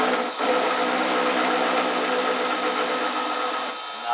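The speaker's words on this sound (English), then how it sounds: "now the machine is cutting very smooth, very gradual" A rotary balancing machine cuts with a steady, loud, continuous whine and faint vibration, running evenly throughout with a brief dip near the start and easing off at the end.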